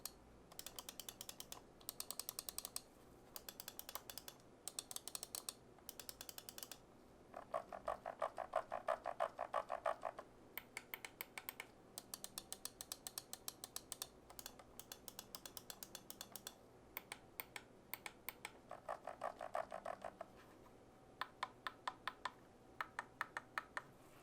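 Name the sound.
computer mouse button clicks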